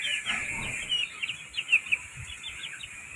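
Chickens kept penned in a backyard coop during the rainy season cluck and peep softly over a faint steady background hiss, with a few brief louder calls near the middle.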